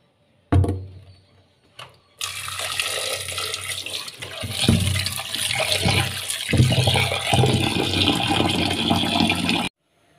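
Meat washed under a strong, steady stream of running water in a kitchen, loud and close, after a few short knocks and splashes at the start, with no voices.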